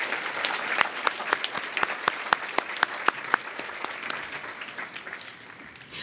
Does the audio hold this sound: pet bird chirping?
no